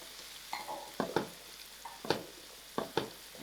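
Mixed vegetables and green pepper cook in a hot pan for spicy rice, with a faint steady sizzle broken by several sharp scraping stirs and clatters of a utensil, close and without talk.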